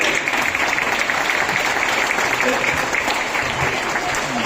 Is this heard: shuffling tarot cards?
no